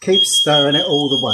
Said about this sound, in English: that was our fire alarms going off